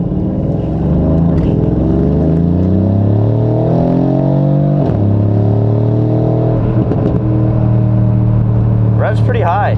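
A Mercedes-AMG C63 S First Edition engine revs while driving at sunset on a smooth road, its loud droning note climbing and falling in pitch as someone talks over it.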